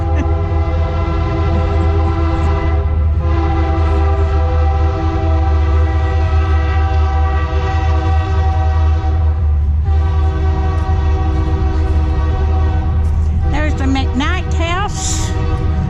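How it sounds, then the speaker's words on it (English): A loud train rumbles past close by with a steady heavy drone and sustained horn tones, with squealing and screeching metal near the end. "There's a train going by."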